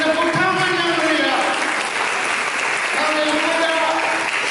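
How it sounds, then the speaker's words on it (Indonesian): Congregation applauding during a church service, sustained clapping from a large indoor crowd with a speaking or singing voice running over it, the applause dipping briefly midway before swelling again. "Berikan tepuk tangan yang mulia."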